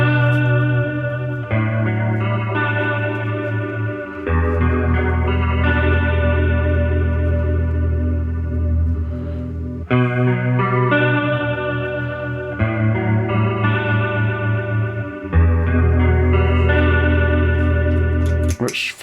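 Guitar played through a Corona Chorus pedal loaded with the TRI-Vibe toneprint, a lush warbling chorus over sustained, ringing chords and riffs; loud and continuous for nearly twenty seconds with no voices.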